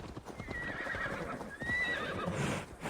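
A horse in Assassin's Creed Valhalla whinnies twice in clear rising and falling neighs over steady hoof clip-clops, fairly close, with no speech.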